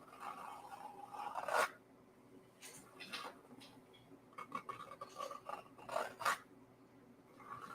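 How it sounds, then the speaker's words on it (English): A palette knife scraping up paint, giving short dry scratchy strokes in several bursts with pauses between them, close but quiet. "you can use your palette knife to scrape up what you need"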